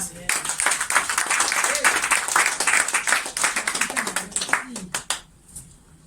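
A church congregation claps and cheers loudly during a French-language worship service, dense sustained applause with voices mixed in that fades out near the end.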